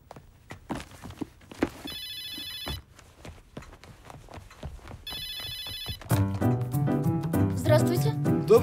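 A telephone rings in two long electronic trill bursts separated by a pause, with footsteps and room noise around them, then music swells in near the end of this drama scene.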